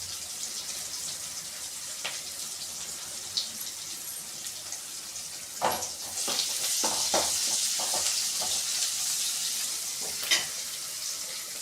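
Onions sautéing in a pan for fish curry, a soft steady sizzle with bursts of sharp scraping stirs in the middle, the frying growing louder partway through.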